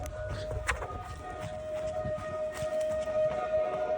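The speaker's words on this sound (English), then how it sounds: "It's not a real siren." A tornado siren played as an April Fools prank in Olympia, Washington, a steady wailing tone that holds throughout over low rumbling background noise, fairly loud and continuous with no talk.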